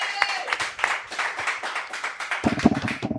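A small audience claps for chief executive officer Heidi, a brisk round of scattered hand claps that stays steady and close, growing a bit fuller near the end before cutting off.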